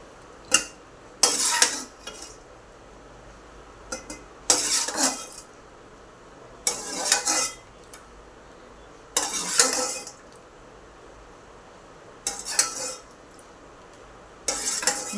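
Fried potato fries scooped from the pan into a bowl, with repeated bursts of metal utensil scraping and clinking against cookware separated by quiet pauses, close and fairly crisp.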